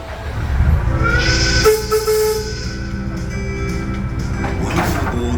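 The Ginger Factory tourist train on Queensland's Sunshine Coast rumbles steadily along the rails with a low, continuous rolling drone, a few squeals and clanks rising over it, with no talking.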